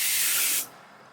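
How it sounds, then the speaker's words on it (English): A pressurized pump spray can mists water onto orchids in an indoor greenhouse, a loud, close, steady hiss that cuts off abruptly after about half a second. "spray everywhere for a very long period of time without having to pump"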